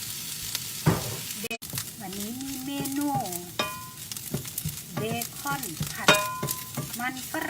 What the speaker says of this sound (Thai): เบคอนกำลังจะ สุกแล้วนะคะ